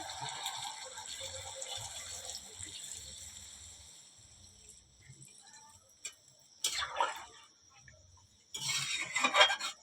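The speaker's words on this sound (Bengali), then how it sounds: "এরপর দিয়ে দেবো জল" Water poured into a pan of well-fried chicken curry with potatoes: a steady background hiss, then a short splashing pour and a louder, longer gush near the end, close by.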